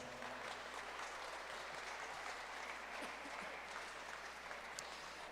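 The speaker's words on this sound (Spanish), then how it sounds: "Y dale un fuerte aplauso al Señor." A church congregation claps, a faint, distant wash of applause with a constant low hum underneath and a few sharper claps standing out.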